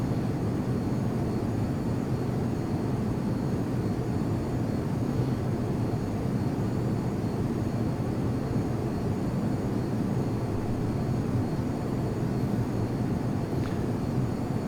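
Steady, unbroken roar of an F-22 Raptor jet in flight inside the Prepar3D flight simulator game, a dense broadband engine and wind rush holding constant and loud throughout with no voices.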